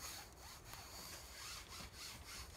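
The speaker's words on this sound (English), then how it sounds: "I'm going to actually clean this screen with the wet dusty mitt" A wet dusty mitt rubs back and forth across a window screen that is still in place, making a soft rhythmic scratchy swishing at close range.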